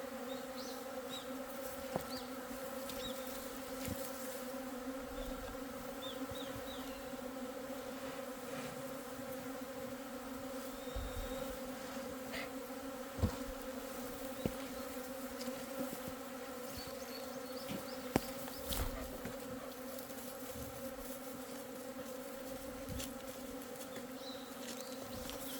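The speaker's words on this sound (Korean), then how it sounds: "요 앞에 이동말벌이 하나 들어와 있어요." A steady, layered buzz of honeybees at a hive entrance with a yellow-legged hornet hovering nearby, a constant droning hum throughout with faint ticks and no speech.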